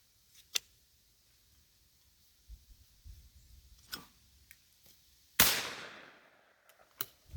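Shotgun blasts at thrown clay pigeons outdoors: a few sharp, separated cracks, one loud close shot with a long decaying echo, amid quiet background and faint clicks.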